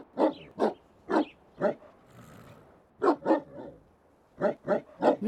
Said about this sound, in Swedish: Hunden skäller ut de balla grisarna.